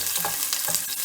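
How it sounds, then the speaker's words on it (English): Onion frying in a pot over medium heat for Jamaican-style curry chicken, a steady close sizzle with faint scraping stirs running through the whole moment. "Now I will add some of my onion"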